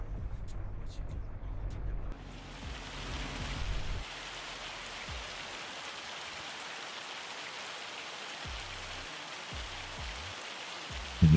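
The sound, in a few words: rain falling on an Iowa farm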